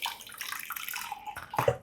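Water running from a tap while a cooking pot is rinsed and washed, a steady splashing flow at close range with a couple of brief clatters near the end.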